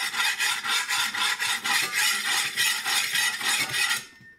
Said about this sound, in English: Cook in them, scrape in them. Watch. Metal spatula.